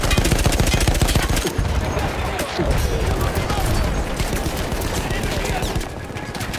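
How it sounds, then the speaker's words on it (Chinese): Dense, relentless battlefield gunfire in the video game Battlefield 1: rattling machine-gun bursts and volleys of rifle fire mixed with booming artillery, loud and continuous throughout with no pause. "这个战场三不五时都是炮声隆隆"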